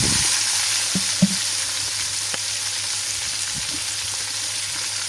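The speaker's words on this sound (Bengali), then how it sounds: "আলুটা আমি সুন্দর করে নাড়াচাড়া করে এটাও ভেজে নেব গোশের সাথে সাথে" Potatoes frying with meat in a pan for chicken khichuri, a constant hissing sizzle close up, broken by a few soft knocks and scrapes of stirring.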